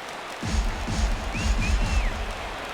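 Simulated baseball stadium crowd in MLB The Show 17 at a Marlins–Rangers game in Texas, a steady broad roar with a low rumbling swell as fans rise for a full count.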